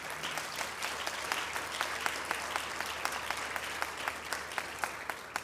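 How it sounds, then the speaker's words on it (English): A conference audience gives a round of applause at a mining skills gathering, steady moderate clapping with sharp individual claps standing out throughout, no speech over it. "give yourselves a round of applause."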